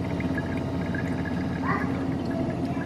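An under-sink water filtration system filling with water, a soft continuous trickle and gurgle over a low steady hum, with a few faint bubbly chirps.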